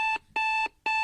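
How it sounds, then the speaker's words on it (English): Electronic alarm clock from a comedy ad for a self-esteem wake-up clock, sounding three loud bright beeping bursts in a steady on-off rhythm, close and alone with no talking. "Start your day off right with the Get Your Ass Out of Bed, You Beautiful Son of a Bitch self-esteem alarm clock."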